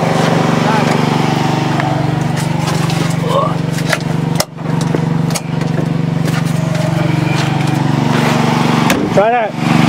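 Volkswagen engine after ten years of sitting, a loud, close, steady mechanical drone with brief dips and sputters near the middle and a rattling stumble at the end.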